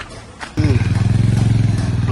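A motorcycle starts up and sets off on a road near a landslide-affected area, a sudden loud engine burst settling into a steady, close, pulsing idle-to-pull-away rumble.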